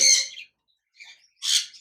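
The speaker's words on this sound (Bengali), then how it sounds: "বাজিগার পাখি রয়েছে" A creamino red-eye male and lutino red-eye female budgerigar chirp in two short, bright bursts separated by a brief pause, close and fairly loud with no other sounds.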